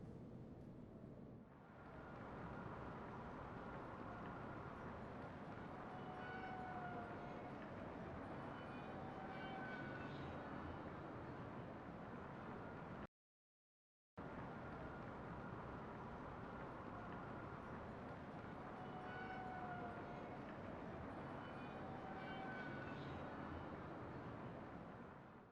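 Elevator ride ambience in the game Mass Effect 3, a steady low mechanical rumble and hum with faint whining tones, continuous apart from a brief total dropout midway.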